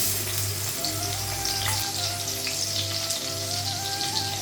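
Onions fry in a kadai (wok) with a continuous close sizzle and light crackling, sitting over a low steady electrical hum, with no one speaking.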